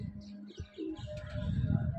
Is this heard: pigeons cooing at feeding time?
yes